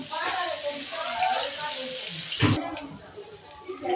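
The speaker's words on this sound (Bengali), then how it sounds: "বড় একটা কড়াই নিছি, কড়াইয়ের মধ্যে ভাজা নিতেছি" Pumpkin leaf fritters fry in a large wok with a continuous bright sizzling hiss and one brief clattering knock partway through.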